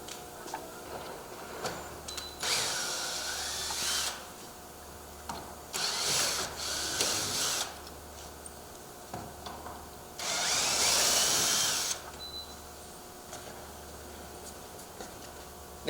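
A power drill runs in several short bursts, whirring and stopping irregularly while removing door hinge screws during a replacement door installation, with a faint ticking and background hum between bursts.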